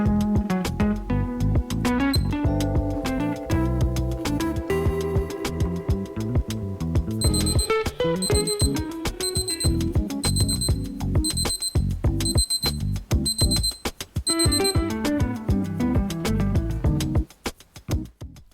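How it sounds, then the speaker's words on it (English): A Casio LF-20W digital watch sounds its countdown timer alarm, a loud, close run of rapid repeated electronic beeps in regular bursts, with no speech. "A countdown timer is the next function, and this can be set from 1 second to 24 hours."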